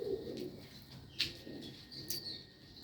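Quiet, low cooing of pigeons nearby in a cage, with a couple of soft chirps and a faint flutter in a calm space.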